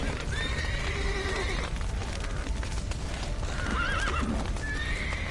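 Horses neigh and whinny in a burning stable in The Witcher video game, several shrill calls over a rumbling background with clip-clopping hooves, no talk.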